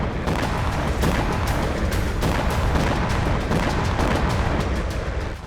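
A Ukrainian drone strike on a Russian explosives production site: heavy explosions boom and rumble continuously, with crackling blasts and sharp cracks layered over a deep, sustained roar throughout.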